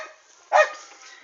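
A female dog gives a single short, sharp bark, close and clear, against an otherwise quiet outdoor background.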